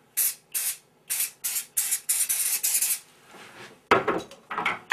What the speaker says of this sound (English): get an aerosol of furniture polish and just give it a little blast,